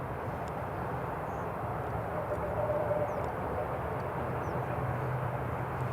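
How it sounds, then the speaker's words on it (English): Aer Lingus airliner taxiing at Newcastle International Airport, a steady broadband jet rumble at a moderate distance, continuous and even throughout with no voices. "Aer Lingus is just taxiing"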